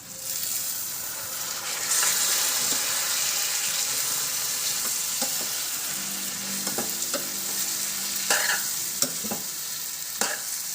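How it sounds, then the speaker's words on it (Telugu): Brinjal pieces fry in a pan with a steady, moderately loud sizzle and crackle, stirred with repeated scraping and a few sharp clinks toward the end. "ఇది కొంచెం ఫ్రై అయిన తర్వాత దీంట్లో ముందుగా కట్ చేసుకున్న మన వంకాయ ముక్కలు ఉన్నాయి కదా అవి వేసి కలుపుదాం"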